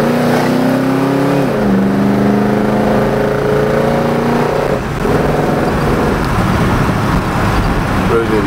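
An Oldsmobile Cutlass engine drones loudly from inside the moving car, its pitch climbing and then dropping as it shifts gears, with steady road noise throughout.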